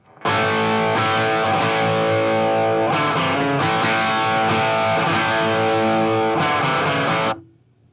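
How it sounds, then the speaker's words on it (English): A distorted electric guitar plays a bluesy riff, loud and sustained, with a few sharp picked accents, then stops abruptly near the end. "Very cool kind of bluesy riff."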